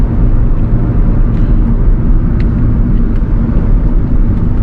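A 2013 Hyundai Verna 1.6 SX running on a test drive, its engine and road noise forming a steady, loud low rumble close by that holds constant throughout with no talking.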